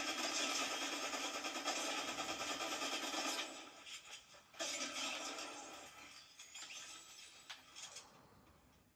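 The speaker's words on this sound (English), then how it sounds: "This motorbike is powerful." A powerful motorbike engine in a battle royale video game drones steadily at high volume, then dips and surges as the throttle changes, with no other prominent sounds over it.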